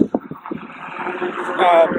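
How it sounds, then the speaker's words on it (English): Strong wind outdoors rumbling against a microphone, a continuous blustery roar beneath a man's speech, building louder toward the end. "it's really windy up here"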